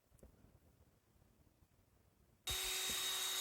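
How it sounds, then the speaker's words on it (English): Power drill boring holes for eye bolts in a wooden anvil stand in a shop, starting abruptly after a quiet stretch and running loud and steady for about a second, with a whining high pitch. "We're just drilling holes for the eye bolts."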